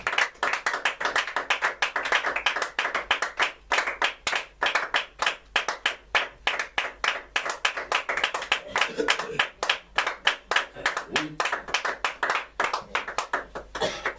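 A church congregation clapping together in a quick steady rhythm, sharp dense handclaps filling the room with some voices faintly mixed underneath.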